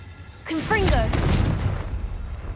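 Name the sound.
Confringo blasting spell explosion in a Hogwarts video game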